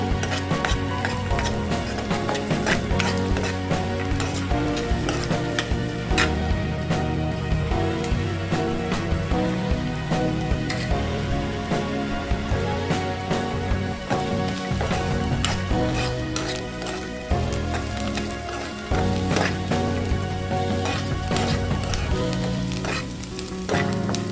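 Curry leaves sizzle loudly in hot oil in a pan for upma, a continuous crackling fry with scraping and stirring sounds running through the whole stretch.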